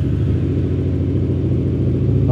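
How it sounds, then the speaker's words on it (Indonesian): Exhaust of a Yamaha XMAX scooter idling and revving, a steady close engine rumble with a throbbing low pulse held for the whole stretch, loud and with no talk. "Oke, kita coba dengar suara knalpotnya deh."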